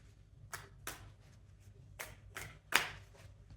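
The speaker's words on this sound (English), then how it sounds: "Just going to shuffle the deck." A tarot card deck is shuffled close by in a quiet room, with about six sharp riffling bursts at uneven intervals and a low hum underneath.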